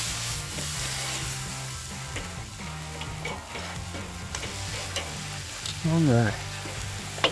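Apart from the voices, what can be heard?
Denver steaks and filet mignon searing over hot charcoal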